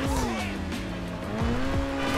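Cars racing in GTA 5 make a loud, close engine whine that rises and falls, with screeching tyre squeals and skids over a continuous roar through the whole stretch.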